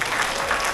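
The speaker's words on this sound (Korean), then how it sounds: "그런 고통을 겪은 김은동 만물 박사에게 격려의 박수를 보내드립니다." Brief burst of crowd applause at a book launch celebrating a newly published 650-page book, steady and dense throughout with no speech.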